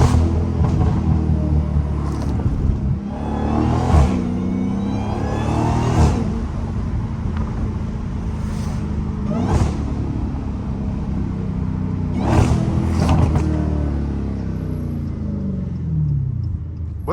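A Dodge SRT Hellcat's engine rumbles and revs close up on a city street, with repeated throttle blips and sharp exhaust pops spaced every few seconds over a continuous deep drone.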